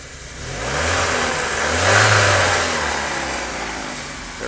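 The four-cylinder engine of a 1991 BMW 318is runs with the hood open, a steady close hum that rises briefly as it is revved, then settles back toward idle.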